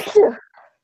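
A single sharp human sneeze bursts out close and loud, then fades into a faint breathy trail within a second.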